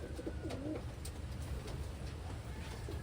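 Wantai pigeon cooing softly, a few low murmuring coos close by over a steady low rumbling background.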